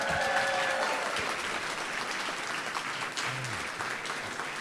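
A full room of clapping at an awards ceremony, steady and continuous for the whole stretch, with a brief tonal squeal early on and a low rumble near the end.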